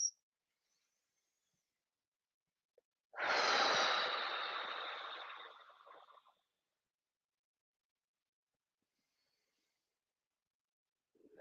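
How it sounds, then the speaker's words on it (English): A single long, deep exhale of guided relaxation breathing, a broad airy rush lasting about three seconds, close and fairly loud, alone in an otherwise silent room. "3 deep breaths here into the pelvis."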